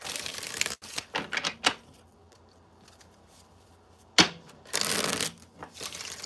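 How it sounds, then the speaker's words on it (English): Tarot cards riffle and slap in quick bursts, a pause of near quiet, then another brisk shuffle close by; no one speaks. "Let me shuffle one more time for my air signs."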